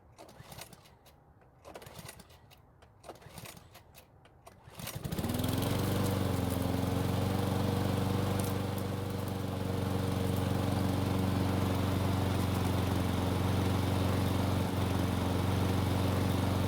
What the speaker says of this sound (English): we'll then start the engine